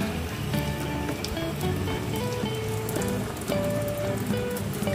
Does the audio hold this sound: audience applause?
no